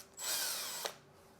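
A power driver whirs for a brief burst while backing out a Phillips head screw to remove the seat of a Kingsong S22 electric unicycle, a single close, high-pitched spin lasting under a second, with no talking.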